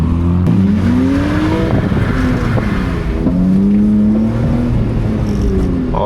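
Cars accelerating hard in a street race between a 700 horsepower Infiniti Q50 and a 200 horsepower BMW E46: loud, continuous engine roar with rising and falling pitch sweeps as the gears change.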